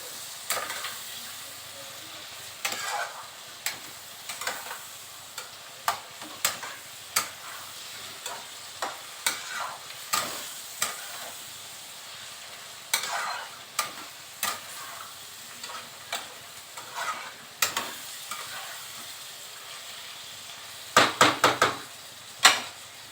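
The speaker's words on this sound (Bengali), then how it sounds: "এবার ভালো করে 2 মিনিট ধরে কষিয়ে নিতে হবে।" Okra sautéed in a frying pan, a continuous soft sizzle broken by regular sharp ticks and scrapes of a spatula stirring against the pan, ending in a quick cluster of louder knocks.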